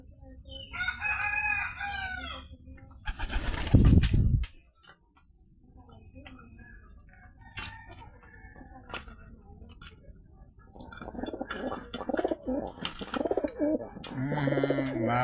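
Pigeons feeding on rice give low coos and fluttering calls nearby, with a loud burst of wing and scuffling noise early, a quieter stretch, then more cooing toward the end, with voices talking at times.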